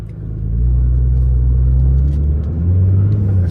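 Nissan GT-R R35 engine under way, a steady low rumble that swells after the first half second and holds loud and even, with a slight lift in pitch near the end.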